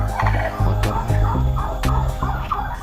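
Several turkeys on an Indonesian turkey farm gobbling loudly and repeatedly, rapid warbling calls overlapping one another close by.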